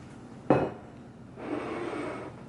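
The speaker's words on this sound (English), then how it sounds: "we're going to slowly whisk this into that" A whisk clanks once against a bowl, then scrapes steadily for about a second as flour and dry ingredients are worked into batter for jumbo chocolate peanut butter cupcakes. The sound is close and fairly quiet.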